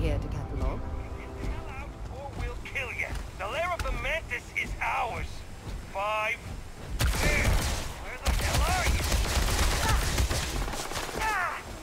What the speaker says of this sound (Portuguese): Assim que eu descer aqui vai começar tiro pra tudo quanto é lado